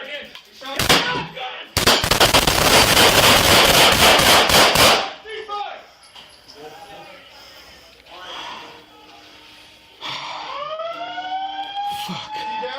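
A shotgun blast during a police arrest and use-of-force encounter, one loud sharp report early, then a roaring burst of noise, followed by shouting and talk from officers.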